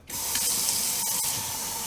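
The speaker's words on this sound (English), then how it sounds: "Put you some water in it." Water pours into a cup in a steady hissing stream for nearly two seconds, close and fairly loud, starting abruptly.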